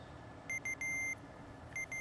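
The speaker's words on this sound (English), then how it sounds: "Phoebe had set her phone alarm for 10 a.m." A phone alarm beeps in short, high electronic tones: two quick beeps, a longer one, then two more after a pause, over a low background hum.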